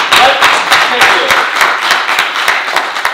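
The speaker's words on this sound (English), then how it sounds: "You can definitely clap for that." An audience claps together in a dense, steady patter of many hands, loud and close, holding for a few seconds.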